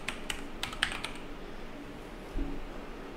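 A quick run of light keystrokes on a computer keyboard, close and fairly quiet, followed by a short pause and one soft thump.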